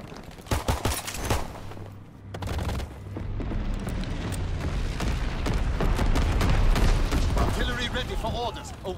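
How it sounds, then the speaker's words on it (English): Naval primary battery artillery booming in a video game battle, loud dense volleys and rumbling blasts mixed with gunfire throughout, while voices call out over the din. "Firing primary battery."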